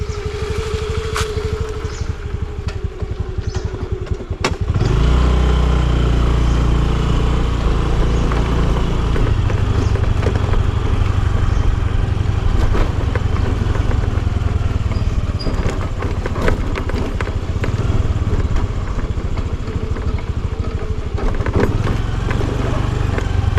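A motorcycle rides along a road, its engine droning loud and steady with constant wind rush after a brief quieter start, continuous for over twenty seconds with no speech.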